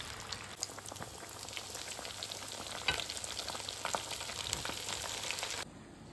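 Breaded chicken thighs deep-frying in hot oil, a steady close crackling sizzle with scattered pops throughout, with no talking.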